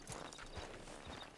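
Horse hooves clip-clopping in the video game Red Dead Redemption 2, a few faint, quick hoof thuds over a low background hum.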